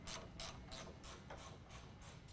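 A ratchet clicks in quick repeated strokes, about seven even pulls, tightening a factory nut on the drag link of a 2017 Dodge Ram during a suspension lift install, close and fairly quiet.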